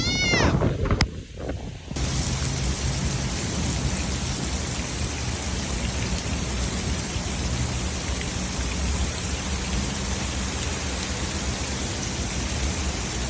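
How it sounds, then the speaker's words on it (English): Heavy rain pours and wind roars from outer hurricane bands, a loud constant outdoor wash after a brief burst of noise at the start, with no talking. "we got some crazy winds, we got some crazy rain"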